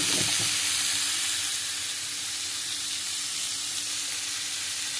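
Chopped okra with salt and turmeric fries in a pan for an okra curry, a steady loud close hiss of sizzling oil throughout, with a brief stirring scrape at the start and no talk.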